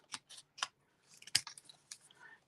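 Scissors snip Designer Series paper in a few quick, crisp cuts, close and quiet, with a short pause between the first group of snips and the later ones.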